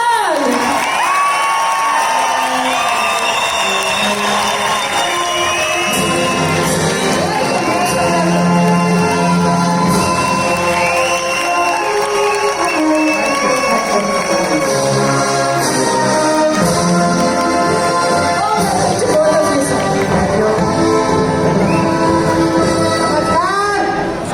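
A large audience at a corporate gathering in a hall, clapping and cheering loudly and continuously, with whoops and shouts over a steady roar the whole time.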